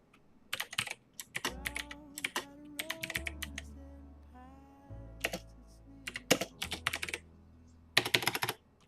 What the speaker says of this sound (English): I got a problem typing.